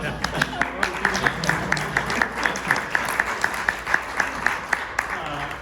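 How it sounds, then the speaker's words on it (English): A candidate forum audience gives a round of applause, with rhythmic, evenly spaced claps standing out over a steady crowd clapping backdrop, moderately close and continuous. "Please join me in giving a round of applause."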